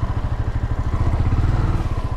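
Motorcycle ridden along a rough dirt track on the way to a waterfall in Morropón, Peru, its engine a loud, close, pulsing chug with clattering jolts from the uneven ground.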